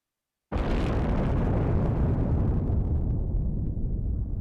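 A huge explosion in the flight combat game Ace Combat Zero bursts in abruptly, then a dense, roaring boom rumbles on loud and sustained, slowly fading as it stretches out.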